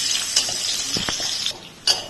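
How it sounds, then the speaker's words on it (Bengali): Raisins fry lightly in a pan for fried rice, giving a soft, steady sizzle broken by a few sharp clinks and scrapes of a utensil stirring against the metal. "কিশমিশটাকেও হালকা করে ভেজে নেব।"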